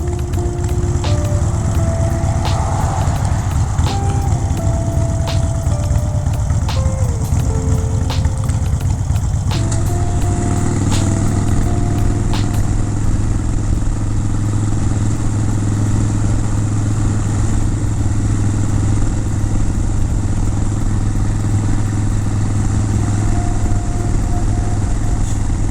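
A motorcycle rides along a road, its engine droning loud and steady throughout, with pitch rising and falling as speed shifts in the first half before settling into a constant hum with wind rush.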